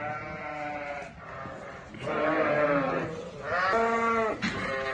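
Sheep bleat repeatedly at feeding time on a farm as a crushed maize feed mix is handed out, several loud, close calls overlapping in a steady, busy chorus.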